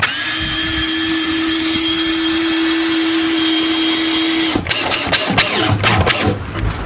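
A power drill drives screws into a wooden ramp with a loud, steady whine for several seconds, then stops, leaving clattering knocks of handling.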